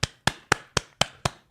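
Claps for wrestler Roman Reigns ring out as seven sharp, evenly spaced hits, roughly four per second, close and dry with silence between each strike.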